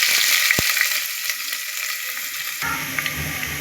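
Onions fry in oil with fennel seeds, cinnamon and cloves, giving a bright, steady sizzle with a few stirring clicks; partway through, the frying turns lower and rougher.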